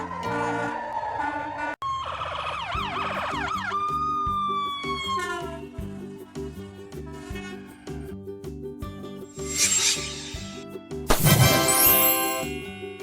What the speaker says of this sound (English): Fire ambulance, an ambulance specifically designed for firefighters or fire victims